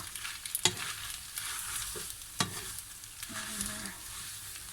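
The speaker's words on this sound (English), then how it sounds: "Just mix it together like that" Fish spaghetti carbonara stirred together in a cooking pan, with a steady scraping stir over a soft sizzle, a few sharper knocks of the utensil against the pan, and no talking.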